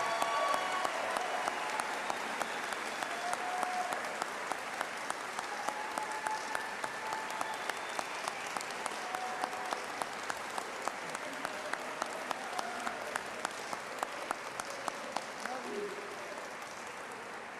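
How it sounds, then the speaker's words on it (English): Steady, sustained applause from a large crowd for the graduates at the Dunkirk High School commencement ceremony, continuing evenly throughout and slowly fading toward the end. "How about another round of applause for all of our graduates?"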